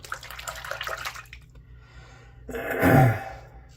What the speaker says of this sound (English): There's that razor working.